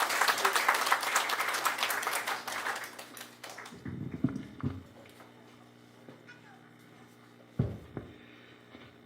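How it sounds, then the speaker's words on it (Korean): A crowd at a Korean association's anniversary event applauds with dense, loud clapping for several seconds, then it fades out, leaving a quiet room with a few thumps and handling noises. "큰 박수로 맞이해 주시기 바랍니다."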